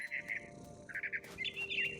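Bright, repeated chirps from a mother bird in the video game What Remains of Edith Finch, set in a big tree, come in short bursts over a soft steady background hum.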